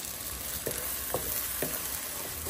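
Eggs go into eggplant frying in a pan, a soft steady sizzle with a few sharp stirring scrapes, quiet and close with no talking.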